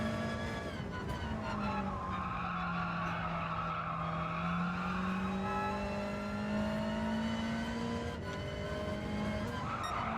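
A race car on hard tyres in the Gran Turismo 7 video game spins its wheels, with a long loud tyre squeal and a droning engine note that rises and falls over ten seconds, continuous and close.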